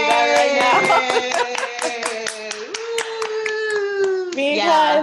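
An applause sound effect plays as a burst of rapid clapping mixed with bright, cheering voices and tonal sweetening, sustained and fairly loud for about five seconds.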